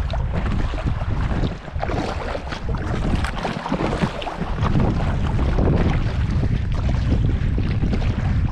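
Strong wind and choppy sea waves surround a Gumotex inflatable boat being paddled at sea, a loud constant roar of gusts and splashing water buffeting the microphone throughout with no talking.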